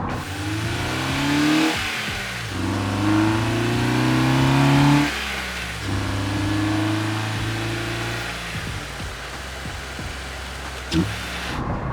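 A car engine with a custom-fabricated cold air intake accelerates repeatedly, revving up through gears with a throaty rising drone, close and steady, with brief dips between shifts.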